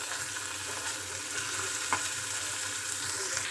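Onion and tomato sauté in hot oil in a pan, giving a steady, moderate sizzle with a faint clink of stirring near the middle and no one talking.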